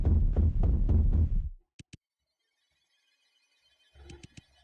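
A racing heartbeat in the video game Vincent: The Secret of Myers: two quick, close, muffled thumps heard alone after a stretch of voice, then near silence before faint rumbling returns with a few more soft pulses.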